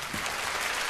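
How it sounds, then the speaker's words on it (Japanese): Brief burst of audience clapping at an Infinite Stratos anime fan festival event, a dense, even wash of applause from a crowd lasting under a second. "続いて花澤さんが良かったと思う人拍手。"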